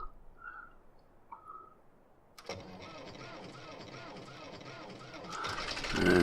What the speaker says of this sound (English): It's my ploughing tractor.